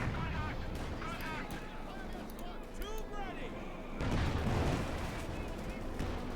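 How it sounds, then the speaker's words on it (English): Howitzer artillery and battlefield gunfire in a Company of Heroes 2 match, a dense rumble of distant shots and explosions that swells louder near the end, with someone commentating over it throughout. "actually we got a howitzer now from PolishTroll."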